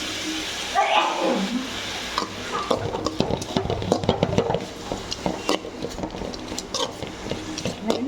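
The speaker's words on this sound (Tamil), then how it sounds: "எண்ணெயிலே வதங்குவோம் நல்லா." Grated beetroot sautés in oil in a pan with dried red chillies, a low sizzle under busy stirring scrapes and utensil clatter; a voice talks through part of it.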